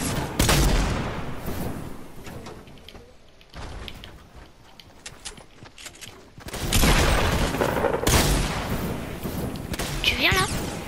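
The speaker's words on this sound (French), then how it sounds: "Non, mais moi on me tire dessus" Bursts of video-game gunfire rattle loudly in clustered volleys, easing off midway before heavy shooting resumes, with a player under fire and voices talking over the action.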